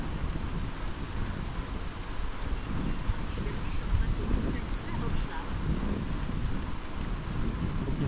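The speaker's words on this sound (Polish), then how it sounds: "dosyć ogromna burza, ulewa" Steady heavy rain from a thunderstorm hisses and patters close by, a dense continuous wash of sound with low rumbling underneath.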